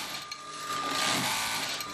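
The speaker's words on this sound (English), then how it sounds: "Then the business expanded and we bought a second, third and a fourth sewing machine." A sewing machine in a small family workshop in Morocco runs steadily, producing a dense, continuous mechanical whir with a faint rapid ticking throughout.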